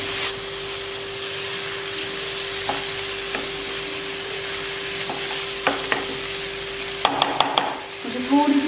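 Veg fried rice stirred and fried in a pan, with a steady sizzle and occasional spatula scrapes and clinks, a faint hum underneath and a cluster of sharper knocks near the end.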